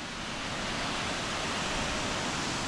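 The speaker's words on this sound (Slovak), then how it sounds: "A tam je ten vodopád Fiji." The Fiji waterfall on Bali pours in a steady, broadband roar of rushing water, constant and fairly close, with no voices or other sounds over it.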